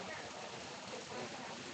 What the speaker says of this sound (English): And the rain's starting to sprinkle on again here.